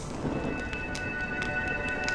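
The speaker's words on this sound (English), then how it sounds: "When will this rain ever stop?" Rain falling steadily in the video game Honkai: Star Rail, a dense even hiss with scattered soft drop ticks, continuous and alone without voices.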